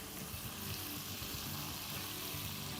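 Beef frying in a pan while Korean dishes are prepared, giving a steady, close sizzle that holds at an even level throughout with no voices over it.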